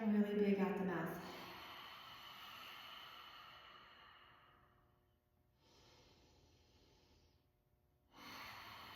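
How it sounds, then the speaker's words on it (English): A big pranayama exhale pushed out through the mouth, a breathy rush that fades into quieter airy breaths, following a brief voice at the start. "Exhaling really big out the mouth."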